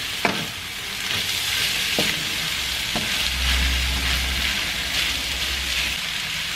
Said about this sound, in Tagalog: At halu-haluin.